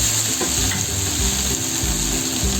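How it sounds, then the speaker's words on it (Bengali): Spice masala fries in oil for a dhaba-style egg curry, a continuous loud sizzle with scraping stirs and low rhythmic clatter of a spatula against the pan. "এখন আমি মশলাটা খুব ভালো করে ফ্রাই করে নেব, তেল ছাড়া অবধি ফ্রাই করে নেব।"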